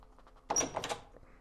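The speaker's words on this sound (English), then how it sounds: "We hear a sound of a door being flung noisily open." A door flung noisily open indoors, a sudden loud bang and clatter that rings briefly and fades within a second, with no talking.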